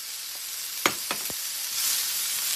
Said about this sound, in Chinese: 我们锅里少倒了一点油，现在把这个蘑菇放进去